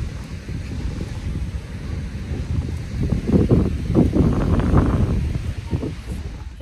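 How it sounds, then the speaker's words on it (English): Wind buffets an outdoor microphone with low rumbling gusts that swell in the middle and ease off toward the end, loud and close, with faint movement noise mixed in. "Probably dumb wind."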